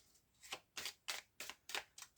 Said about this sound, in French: on va commencer par une coupe et un tirage en 9